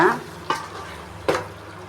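Chicken pepper chops masala with coriander and curry leaves gets stirred in a hot pan, two sharp scraping strokes standing out over a soft, constant sizzle.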